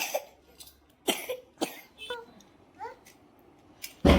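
A young child coughs several times in short, separate bursts, with brief small vocal sounds in between and a louder cough at the end.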